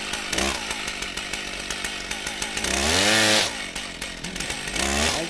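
A power saw, likely a chainsaw, cuts wood while building the roof of a house by a dam, its engine whining steadily with a rising, revving cut near the middle, loud and close throughout.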